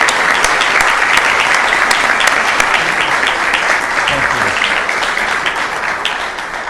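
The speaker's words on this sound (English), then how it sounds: "I just want to give them a round of applause for the work that they do" Audience applause fills a city council chamber, dense and sustained clapping at full strength that eases slightly toward the end, with scattered individual claps standing out.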